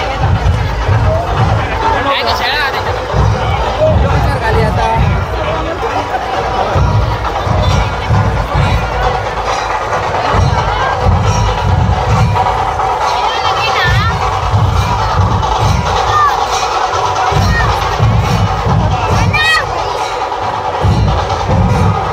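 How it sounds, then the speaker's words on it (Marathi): Dense crowd hubbub at the Narali Purnima coconut game event on Malvan beach, with a constant wash of voices, scattered shouts and cheers throughout, and people talking nearby over it. "खूप गर्दी उसळलेली आहे पाहू शकता तुम्ही."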